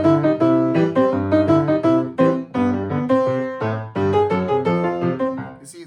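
Lively piano ragtime in an even, straight rhythm, with bouncing bass notes and a bright melody above, played close up.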